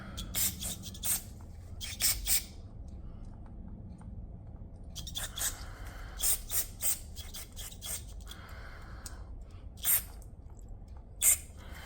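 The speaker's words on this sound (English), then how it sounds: "Hit it with a little bit more cleaner" Carburetor cleaner is sprayed onto a Honda CRF70F dirt bike carburetor in short, sharp hissing bursts separated by pauses, close to the microphone and without speech.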